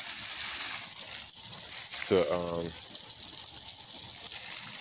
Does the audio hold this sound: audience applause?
no